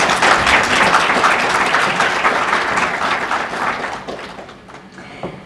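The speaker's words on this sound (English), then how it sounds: "let's give Dr. Masan another round of applause" A conference crowd applauds a speaker with dense, sustained clapping that gradually thins and fades toward the end.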